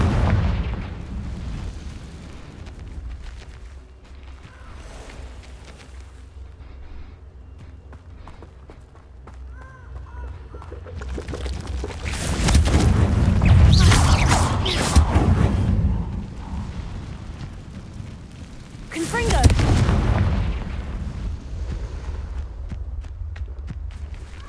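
Confringo fire spells bursting in the Hogwarts Legacy video game, two loud booming blasts about six seconds apart rising over quieter game ambience and footstep-like movement.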